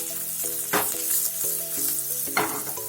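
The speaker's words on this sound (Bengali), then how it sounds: "এবার অবশিষ্ট তেলেতে দিয়ে দেবো থেঁতো করা রসুন" Crushed garlic, three cloves, hits the leftover hot oil in a pan while katla fish kalia is being made, giving a loud, steady sizzle and crackle that runs without a break, with faint tonal music underneath.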